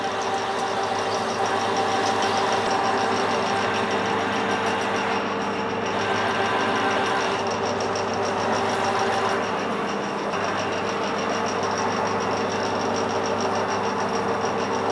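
A metal lathe turns and cuts an unhardened steel bar with a steady, loud, close motor hum and whine. Faint cutting texture sits over the drone, which stays constant throughout with no talking.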